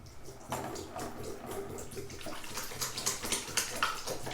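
Bathroom tap left running gently into a sink while washing off makeup remover oil, a soft, steady trickle and splash, close and fairly quiet, with no talking.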